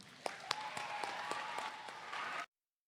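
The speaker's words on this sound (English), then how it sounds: "let's give our hosts a big round of applause" Applause at a school Black History Month assembly, heard as faint, distant crowd clapping with a few sharper individual claps standing out, lasting about two and a half seconds before cutting off to silence.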